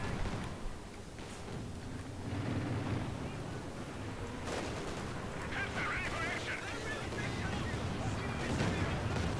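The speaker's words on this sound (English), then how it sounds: "Nice big Katyusha barrage." A Katyusha rocket barrage in the World War II strategy game Company of Heroes 2 produces a dense, continuous rumble of launches and explosions over several seconds, with a voice commenting throughout.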